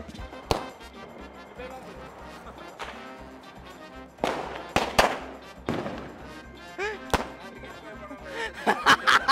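Diwali firecrackers bursting nearby in sharp irregular cracks, scattered at first and then clustering into rapid bangs at the end, with people talking in between.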